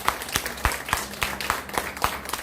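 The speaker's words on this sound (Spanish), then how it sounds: "Dale un fuerte aplauso a Jesús" Church congregation clapping for Jesus during a sermon: sharp, evenly spaced claps in a quick steady rhythm, fairly quiet and distinct rather than a dense wash.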